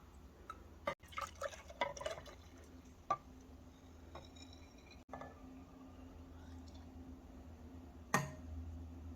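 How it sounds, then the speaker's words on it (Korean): A coffee soap base mixture is poured into a spouted container, giving quiet intermittent drips and small liquid splashes close by, with one sharper splash near the end and no talking. "용기에 담기 편하게 이렇게 앞이 주둥이가 달린 용기를 사용하도록 하겠습니다. 이 용기에다가 붓겠습니다."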